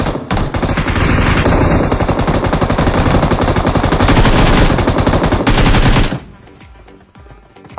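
Rapid automatic gunfire from the mobile battle royale game BGMI rattles loudly and continuously for about six seconds, then stops abruptly, leaving quieter game ambience.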